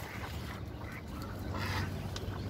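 Ducks quack nearby in a farmyard among chickens, a brief burst of raspy calls over steady background noise.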